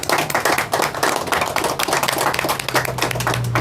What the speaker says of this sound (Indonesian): Tepuk tangan akan Teteh.